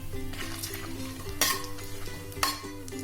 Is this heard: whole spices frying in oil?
yes